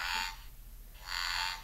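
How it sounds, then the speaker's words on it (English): A frog croaks in a pond, two bursts of dense raspy calling separated by a short pause, fairly close and moderately loud over a low background hum. "frog."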